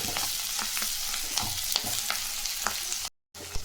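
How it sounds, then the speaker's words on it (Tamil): Drumstick leaves and coriander sautéing in a hot pan give a steady soft sizzle, broken by light scraping stir strokes and a brief gap of silence near the end. "கீரை கொத்தமல்லி போட்டு ஒரு 2 நிமிஷம் அப்படியே வதக்கிடலாம்."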